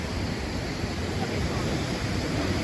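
Pha Dok Siew waterfall in Doi Inthanon National Park, Chiang Mai, Thailand, gives a steady, broad rush of falling water, constant and moderately loud with no pauses or voices.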